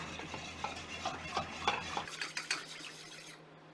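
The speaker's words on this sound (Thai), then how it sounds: "แล้วก็คนให้เข้ากันอีกครั้งค่ะ" Batter for fried mussels being stirred in a bowl close up, a run of quick scraping strokes with light clinks of a utensil, fading to near silence at the end.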